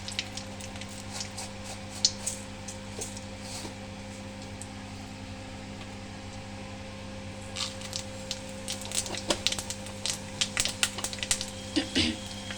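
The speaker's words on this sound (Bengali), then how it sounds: "এবার আমি ফোড়নটা দিয়ে দেব ফোড়নে তেজপাতা শুকনো লঙ্কা আর একটু পাঁচ ফোড়ন" Bay leaf, dry red chili and panch phoron fry in hot oil in a pan, faint sizzling with scattered sharp crackles and pops growing busier toward the end over a steady low kitchen hum.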